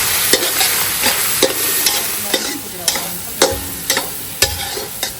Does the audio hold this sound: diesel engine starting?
no